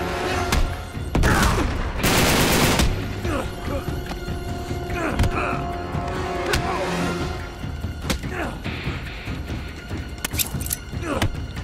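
Rapid bursts of gunfire and explosions in Uncharted 3: Drake's Deception, with loud crackling volleys, grenades and thuds over a busy background of battle noise and occasional speech.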